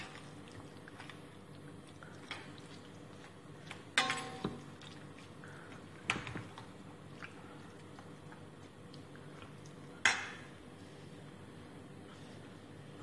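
Chicken gets mixed by hand with cream and yogurt marinade, soft wet squelches and occasional sharp clicks against a bowl over a faint steady background.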